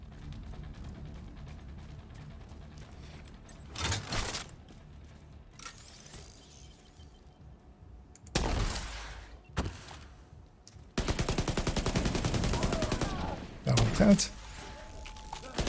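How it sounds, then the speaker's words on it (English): Artillery shots fire in a video game as several loud, broad bursts separated by quieter stretches, with a rapid rattling volley near the end and a brief spoken word. "As I see artillery shots going out there."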